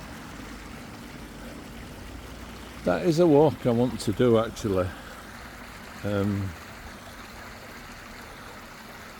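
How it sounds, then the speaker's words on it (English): Meanwood Beck, a stream flowing toward the River Aire, keeps up a soft steady rush in the background while someone talks briefly over it. "It's Meanwood Beck, flowing down towards the River Aire."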